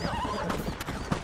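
Horses in the video game Red Dead Redemption, apparently hit by gunfire, let out a shrill whinny over a steady background, with scattered hoof clip-clops and thuds following close by.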